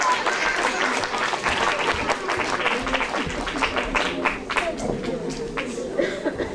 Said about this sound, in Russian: Ваши аплодисменты, выбор сделан.